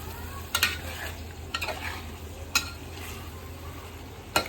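Paneer pieces are stirred into sizzling vegetables in a pan for veg biryani, with a constant soft frying hiss and several sharp spoon scrapes and clinks against the pan.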